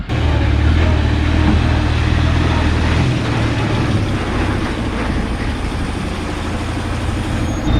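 A loaded coal truck pulls off a weighbridge, its heavy diesel engine rumbling steadily and close, a continuous low drone without pauses or talk.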